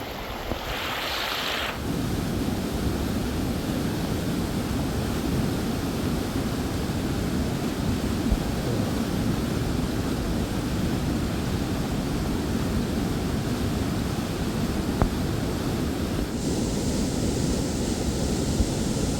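A rain-swollen stream rushes steadily during the monsoon, giving a loud, continuous roar of flowing water with no breaks and no voices.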